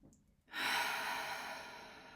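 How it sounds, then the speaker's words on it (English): One deep breath begins after a brief quiet moment, a close, airy rush in the nose-in, mouth-out style that stays loud, then gradually eases over the next two seconds. "we're going to breathe in through the nose and out through the mouth"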